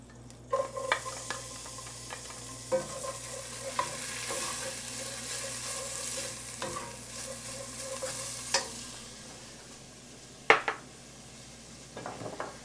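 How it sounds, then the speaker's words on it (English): Onion sautéing in a Dutch oven for Cajun cassoulet, a steady close sizzle and fry running throughout, broken by repeated scrapes and clinks of a spoon stirring against the pot, with one sharper knock near the end. "now I'm going to saute my onion"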